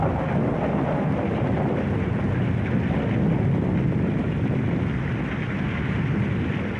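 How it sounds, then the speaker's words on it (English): Steady rain with low rumbling thunder during a wartime storm in the North African desert, a dense continuous wash of noise with heavy low-end rumble and some wind buffeting, no voices. "Rain and thunderclouds."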